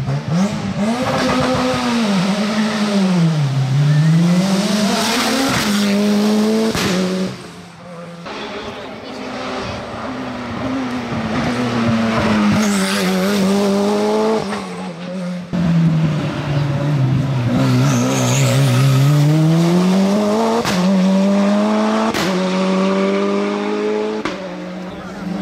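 A race car climbing the Jaizkibel hill climb, its engine revving hard and loud through repeated gear changes, rising and falling pitch with brief lifts between bursts, close and continuous with no one talking.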